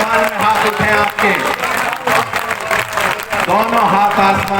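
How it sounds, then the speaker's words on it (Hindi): A large crowd claps steadily at a Hindi poetry recital held at a fair, the applause sustained and fairly loud while someone speaks over it. "दोबारा भी तालियों की गड़गड़ाहट जरा यही हो"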